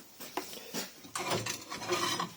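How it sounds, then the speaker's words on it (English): A pillar drill bores holes through a metal bar, giving uneven grinding, rasping bursts at close range that grow denser and louder toward the end. "now drilling some holes big enough to put the U-bolt through"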